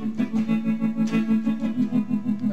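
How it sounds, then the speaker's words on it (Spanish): Electric guitar through a tremolo effect on a Korg AX5G multi-effects pedal, a sustained distorted chord pulsing in steady, rapid volume swells, played alone without talk. "Ahora solo está el trémolo"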